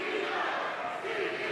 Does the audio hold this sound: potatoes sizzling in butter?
no